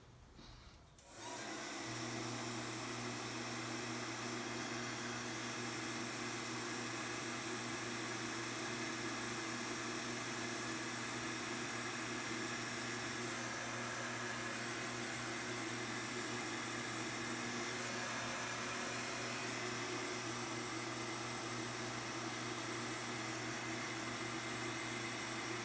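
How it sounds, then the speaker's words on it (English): Hair dryer or heat gun blowing hot air onto the surface of a thrown six-sided clay teapot, a steady close airy whir with a low hum that switches on after a second and runs unbroken. "I'm using the hair dryer, the heat gun to dry the surface"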